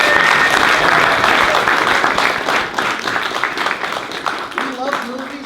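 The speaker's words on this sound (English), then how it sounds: "Give yourselves another round of applause." A live comedy show audience bursts into sustained applause, dense loud clapping from a large crowd that gradually thins out, with a few voices and a speaker emerging near the end.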